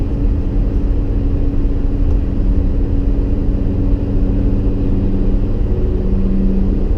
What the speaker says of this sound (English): If we keep going over lanes and flooring it, yeah, you're traffic racing